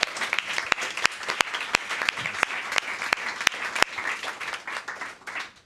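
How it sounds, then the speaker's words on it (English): A room full of people applauds after a startup panel session, a steady wash of clapping with a few sharp, louder claps standing out, fading toward the end. "I think that is a round of applause for coming out here and sharing"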